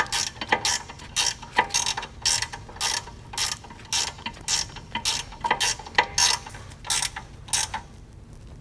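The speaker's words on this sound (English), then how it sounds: "we'll come back in here with these vice grips with our wrench. We'll tighten that down the rest of the way until it's snug." Vice grips and a wrench tighten brake caliper bolts on a 2012-2018 VW GLI MK6, a close, steady series of sharp ratcheting clicks in quick repeated bursts with no talking.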